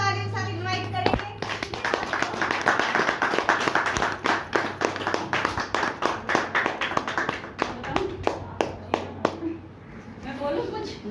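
An audience at an Indian event bursts into steady clapping to welcome a speaker, dense applause that thins into scattered individual claps before fading, with a voice heard briefly at the start.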